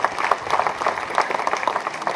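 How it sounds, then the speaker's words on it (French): An audience at a special Women's Day broadcast event gives a short burst of applause honoring women, a moderate, continuous patter of many hands with no speech over it. "Je voudrais qu'on les applaudisse très fort."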